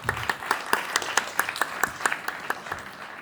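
Performers and audience at a dance, singing and theatre show clap together in a quick, even rhythm, each beat sharp and distinct, in unison and at moderate loudness for about a dozen beats.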